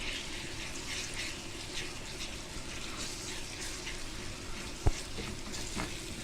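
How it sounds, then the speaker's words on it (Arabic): A meat and onion mixture for an oven tagine sizzles steadily in a pan, a soft continuous frying hiss with one sharp clink partway through, no talking. "نشوحها مع بعض كده"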